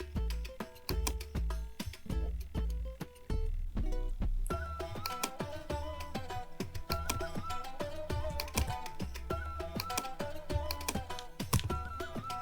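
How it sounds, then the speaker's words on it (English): Computer keyboard typing of a password, rapid key clicks, buried under loud, dense music that dominates throughout. "Type the password."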